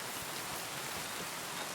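Steady rainfall in the medieval role-playing game Kingdom Come: Deliverance II, a dense, even hiss of falling rain that fills the whole short stretch with no talking.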